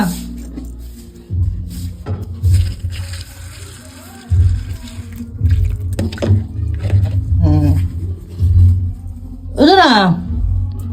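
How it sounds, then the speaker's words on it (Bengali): Sugar water pours and splashes into a container at home, a steady running trickle that comes and goes in bursts, with a voice and other household voices speaking over it. "চিনি জল দিচ্ছি"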